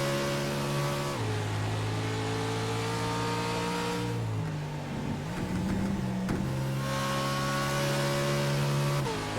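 A race car engine on track laps revs hard at a steady high pitch, drops sharply on downshifts, then climbs again, a continuous loud onboard drone with no talking.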